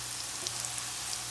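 Tortilla strips frying in oil in a pan for migas, giving a steady, fairly quiet sizzle with a few soft pops and no talking.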